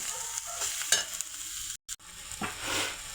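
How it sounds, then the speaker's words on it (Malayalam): Cleaned clams being stirred into a pan of softened aromatics with masala, a steady frying hiss broken by scraping stirs and brief clinks, close and alone, with a short dropout in the middle. "നമുക്ക് കക്കായ കൂടെ ഇതിൻ്റെ കൂടെ ഇട്ടൊന്ന് ഇളക്കണം"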